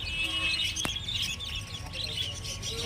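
Many budgerigars chirp and twitter in a dense chorus at the Garia bird market, bright and continuous, with faint market noise underneath.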